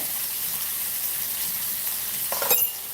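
Tomatoes sautéing with salt in a pan while cooking tomato rice, giving a steady broadband sizzle throughout, with a brief louder burst of stirring or spattering near the end; no talking.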